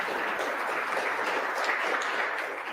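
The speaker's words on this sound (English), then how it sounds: "let's give them a big round of applause" Steady applause from an audience at a panel event on future personal transportation, welcoming new guests; a continuous, fairly soft patter of many hands clapping at a distance, with no distinct voices.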